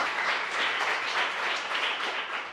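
Warm applause from a crowd of students at a school ceremony, dense and continuous clapping heard from a slight distance, steady throughout and easing off at the end.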